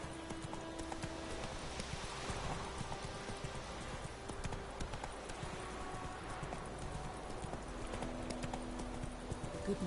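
Hooves of Roach, a horse galloping in The Witcher 3: Wild Hunt, keep up a steady rapid clip-clop throughout. The sound is fairly faint, with light ambient sound beneath it.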